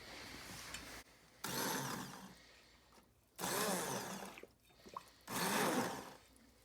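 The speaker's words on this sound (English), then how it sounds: "since I have this handy dandy immersion blender, we're just gonna hit it 2-3 times" An immersion blender whirs through loaded potato soup in three separate bursts, each lasting about a second or more, with short pauses between them.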